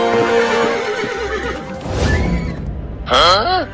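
A horse neighs in a loud, close whinny that quavers up and down, cut between voices talking, with a second sharp, wavering whinny near the end.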